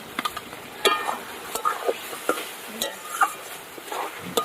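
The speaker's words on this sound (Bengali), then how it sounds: "এবার ভেজে রাখা আলুগুলো দিয়ে দেবো আলুগুলো আগে দিতে হবে দিয়ে একটু কষিয়ে নিতে হবে" Fried potatoes stirred into spice paste in a home kitchen, with irregular scrapes and clinks of a spatula against the pan over a soft sizzle, close and moderately quiet.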